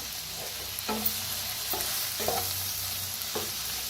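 Steamed brinjal with crushed peanuts, sesame and grated coconut stirred in a pan over a low, constant sizzle, with several distinct spatula taps and scrapes against the metal and no voices.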